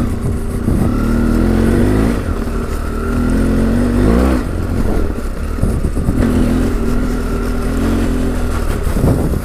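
A motorcycle engine on a heavily loaded round-the-world touring bike runs continuously during a ride, a loud steady drone with rising and falling revs and wind rumble close by.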